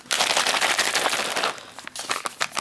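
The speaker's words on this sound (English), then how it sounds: "Give it a good shake." Rapid, dense crinkling and rattling of a zipped plastic MRE drink pouch holding water, shaken vigorously up close, then tapering into a few sharper crackles.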